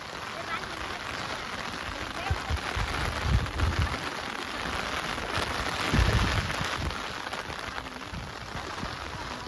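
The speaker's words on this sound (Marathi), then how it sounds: "खूप पाऊस चालू झाला." Heavy rain pouring steadily over flooded rice paddies during transplanting in Konkan, a dense continuous hiss with a few louder gusts and splashes, nearby and without pause.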